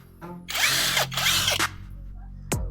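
A budget cordless brushless impact wrench, powered by a 10-cell battery pack, loosens a nut in two loud, close bursts of continuous hammering. A short clunk follows, then quiet.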